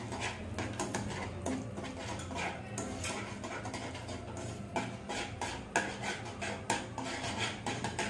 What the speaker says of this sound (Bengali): একদম ঘন হয়ে আসা পর্যন্ত আমার এবার হ্যান্ডেল নাড়তে হবে।